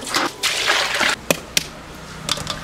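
Pork bones are rinsed of foam under running water, with bursts of splashing and trickling, a couple of sharp knocks, and quieter dribbling between the pours.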